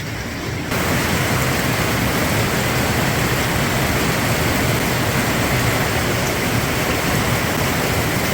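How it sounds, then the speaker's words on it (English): Heavy rain pours steadily, a dense, loud, unbroken hiss that starts abruptly and continues without any voices. "If it's gonna rain, it's gonna pour."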